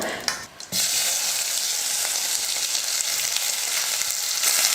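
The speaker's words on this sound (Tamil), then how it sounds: "பாருங்கள் வெங்காயம் நல்லா வதங்கிடுச்சு" Chopped small onions sautéing in a pan, a steady loud sizzle and crackle that runs nearly the whole time after a brief quieter start, with no voices.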